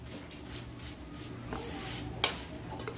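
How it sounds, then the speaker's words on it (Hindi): Vermicelli (seviyan) roasting in a pan, with soft scraping stirs and a faint sizzle, broken by a sharp metallic clink of a spoon against the pan. "बस सेवइयाँ भुनने की देर होती है"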